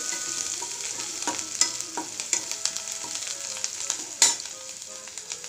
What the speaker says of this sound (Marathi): हा थोडंसं परतून घेऊया आणि यामध्ये आता अर्धा चमचा हळद टाकून घ्यायची